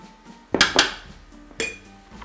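Whisk clinking against a bowl while mixing cocoa cake batter: a few sharp metallic clinks, close and clear, spaced out over a quiet background.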